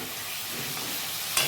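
Chopped onions sizzle and fry in a pan together with already browned potatoes, a steady loud hiss with a sharp burst of crackle near the end as something is stirred or added.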